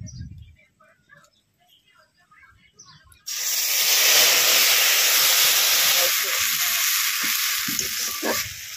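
Spice paste dropped into hot oil left from frying snake fish and crab on an island cooking outing erupts into a loud, sustained sizzle after a quiet start, with scattered stirring clatter underneath.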